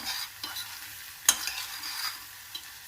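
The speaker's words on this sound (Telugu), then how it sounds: "ఇవి బాగా ఫ్రై అవ్వాలి త్వరగా ఫ్రై అవ్వాలనుకుంటే కొంచెం ఉప్పు దీంట్లో వేసుకుంటే బాగా ఫ్రై అవుతాయి" Quiet frying and stirring in sesame oil for a chicken curry, a soft continuous sizzle broken by a few sharp spatula scrapes and clicks against the pan.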